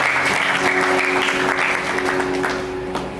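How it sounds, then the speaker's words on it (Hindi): An audience at a church gathering in Jagdalpur claps loudly and steadily, sustained applause with a faint voice-like hum beneath that eases off toward the end. "आप सब जन एक दूसरे के लिए ताली बजा दें"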